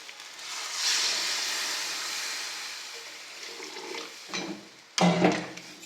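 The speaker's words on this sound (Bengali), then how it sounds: "এবারে জল ঢেলে নেবো।" Water is poured into a pan of fried potatoes and spices, with a broad hissing rush that swells then eases, followed by a couple of sharper splashes and clatters near the end; no talking.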